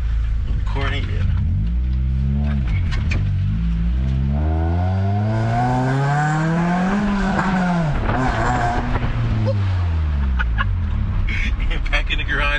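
A Honda Prelude with an H22A1 engine and its resonator fitted revs hard and loud, the engine note climbing and falling through sweeping harmonics over a constant roar, with no talk heard.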